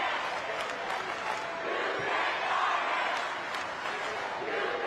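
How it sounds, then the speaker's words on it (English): A packed arena crowd at a North Carolina high school state basketball championship game roars steadily, a fairly faint, continuous wash of cheering with a commentator's voice running over it. "Listen to this crowd."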